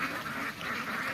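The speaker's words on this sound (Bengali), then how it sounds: "খুব সুন্দরভাবে হাঁস চলে যাইতেছে হাঁসের পছন্দের জায়গায়" Ducks heading off to their favored spot outdoors, giving a brief run of nasal quacking, moderately near, with no speech.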